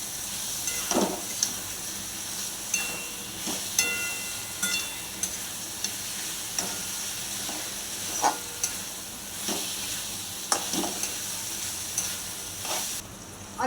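Potatoes and French beans stir-fry in oily masala in a home kitchen, with a steady close sizzle broken every second or two by louder scraping stirs of the spatula, and no talk.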